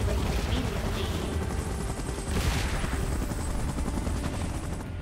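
A helicopter in a video game whirs continuously at moderate level, with a brief surge of broadband noise midway and bursts that resemble distant gunfire; no speech over it.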